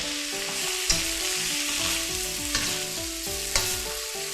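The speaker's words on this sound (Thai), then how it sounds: "ผัดไปเรื่อยๆค่ะให้ผักสุก ไฟปานกลางนะคะผัดไปเรื่อยๆค่ะ" Cabbage stir-frying over medium heat in a pan as part of a stir-fry with egg and shrimp: a constant close sizzle with rhythmic stirring scrapes and a few sharp utensil knocks, no voices.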